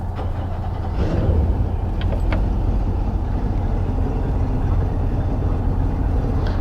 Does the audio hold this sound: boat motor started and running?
yes